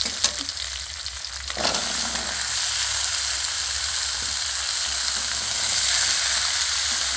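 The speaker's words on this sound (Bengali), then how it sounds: "এবার আমি সবজিটাকে এবার তেলের উপর দিয়ে দেবো।" Pumpkin, potato and papaya pieces drop into hot oil, setting off a sudden loud hiss that settles into a strong, continuous sizzle with faint stirring sounds, no one speaking.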